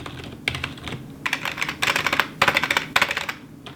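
Rapid clacking of keys on an old non-mechanical Xen DT35 keyboard, fairly loud and close, typed in uneven bursts with short pauses and no voices.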